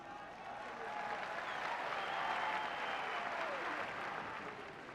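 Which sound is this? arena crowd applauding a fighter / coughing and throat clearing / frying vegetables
arena crowd applauding a fighter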